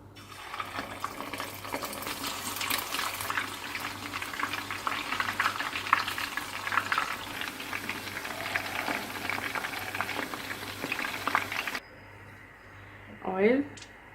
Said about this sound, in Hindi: ऑयल गर्म हो गया, अब इसमें मैं चिकन ऐड करूँगी।